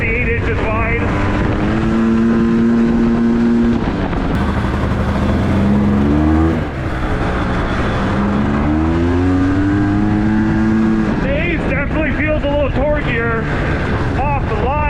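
A Honda Pilot FL400r side-by-side engine driving hard, loud and close, revving up and down through repeated rising pitch sweeps over wind buffeting, with someone talking over it.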